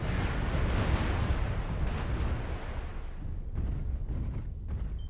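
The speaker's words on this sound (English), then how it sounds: "Warning, incoming missile." Missile explosions in the video game MechWarrior Online make a loud, rumbling roar that swells and fades, with a second burst of rumble later, close and heavy.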